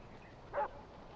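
A small dog in the video game Far Cry 4 gives a single brief, faint bark or yip, set against a low ambient game background.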